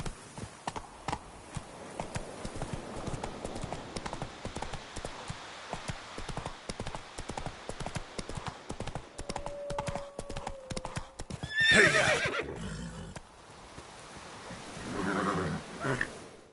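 A horse in The Witcher 3 video game gallops with rapid, rhythmic clip-clop hoofbeats, then lets out a loud whinny midway, followed by more hooves and a second neigh near the end.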